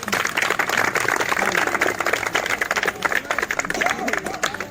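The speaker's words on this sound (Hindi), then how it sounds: "आप सबके लिए तालियों की गड़गड़ाहट" Pilgrims applauding during a Mahakaleshwar pilgrimage, lively uneven clapping from a crowd mixed with babble and voices throughout.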